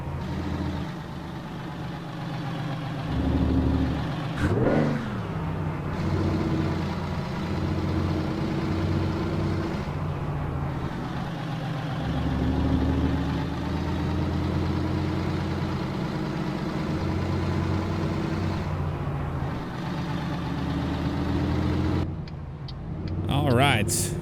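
Truck engine rumbling steadily at low revs while backing a rig into a spot in American Truck Simulator, a continuous drone with a few brief clunks and shifts partway through.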